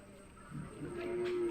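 A cow lows once at the Anchal cattle market, a short rising moo over faint background murmur, fairly close and of moderate loudness.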